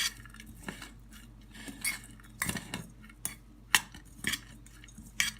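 Chopped onion, parsley, salt and red pepper flakes are stirred together in a plate for a layered katmer pastry filling, a utensil clinking and scraping against the dish in irregular, close bursts with no talking.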